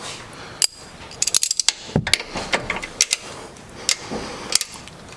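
A ratchet wrench loosens the upper strut bolts on a 2014-or-later GMC Sierra or Chevrolet Silverado during a leveling kit install, giving close, sharp metallic clicks in irregular bursts and short runs with no talking.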